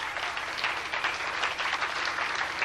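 An audience applauds, a dense, even wash of many hands clapping at a moderate distance, with no talk over it.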